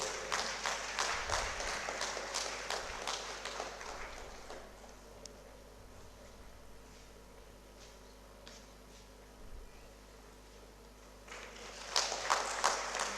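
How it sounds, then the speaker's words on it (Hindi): An audience at a children's event in India applauds to encourage the kids. A faint round of clapping opens the passage, a quieter stretch follows, and a fresh burst of applause rises at the end. "तालियों की गड़गड़ाहट से, करतल ध्वनि से बच्चों का उत्साहवर्धन करते रहें।"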